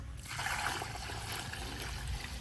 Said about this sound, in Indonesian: kita langsung masukkan ke dalam sini untuk apa namanya, kutu air, starternya dan juga makanannya. Oke, kita tuang saja.